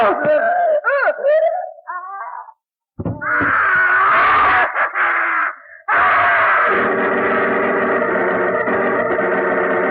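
A drawn-out wailing scream in a radio drama, loud and processed with echoing effects, followed by eerie sustained droning tones.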